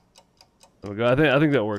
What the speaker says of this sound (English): start the kitchen timer